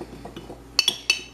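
Sourdough starter of flour and filtered water being stirred in a bowl, giving a few sharp utensil clinks against the bowl near the end after quieter scraping.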